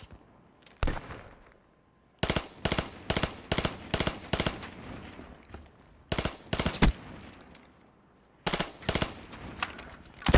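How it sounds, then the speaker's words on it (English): A burst-fire gun in a video game shooting, sharp close bursts of two or three rapid shots repeated in clusters with short pauses between, loud against a quiet game background. "Is this gun like a two burst?"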